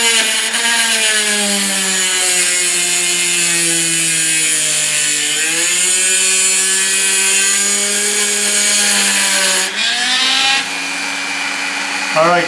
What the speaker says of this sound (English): So I'm going to cut it right here with the Dremel, with the diamond blade, right?